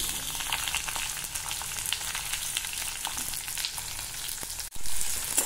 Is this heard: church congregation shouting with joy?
no